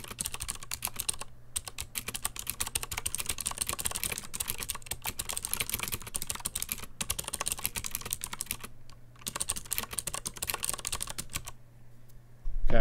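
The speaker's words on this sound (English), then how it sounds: "We're going to do a little bit of random typing just in Notepad so you get an idea of what the sound is like" Random typing on a computer keyboard resting on a Cherry desk mat, a dense steady run of close, crisp key clicks with brief pauses, continuing alone for over twelve seconds.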